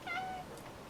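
A cat gives a single short meow close by, a clear rising-and-falling call in a quiet room, then silence.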